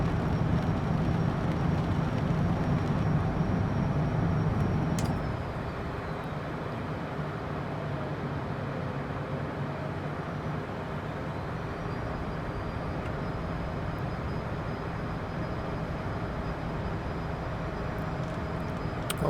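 A Working Title CJ4 business jet climbing in Microsoft Flight Simulator 2020, heard as a steady, droning engine roar with a faint high whine that shifts slightly partway through.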